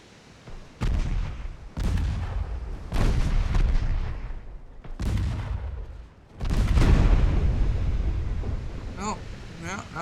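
Heavy 14-inch naval guns fire in Ultimate Admiral Dreadnoughts, a string of loud, deep booms about every second or so, each with a rumbling tail. The last and heaviest blast rolls on into a sustained roar with crackling debris.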